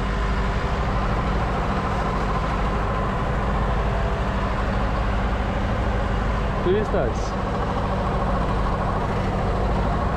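A heavy tractor with water-filled ballast runs steadily in a maize field, a continuous low engine drone close by, while someone talks over it.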